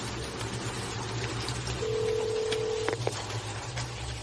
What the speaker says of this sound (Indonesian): Cepat angkat telepon.